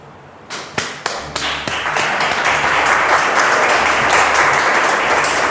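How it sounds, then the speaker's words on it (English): An audience at an art show breaks into clapping that starts with a few sharp claps and swells into loud, sustained applause from many hands, close and steady to the end. "People were clapping."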